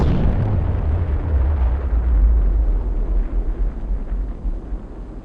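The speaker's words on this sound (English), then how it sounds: "Big bomb." A nuclear bomb test explodes over a US desert test site, a loud, deep roaring rumble that starts strong and slowly fades and thins over several seconds, with no voices.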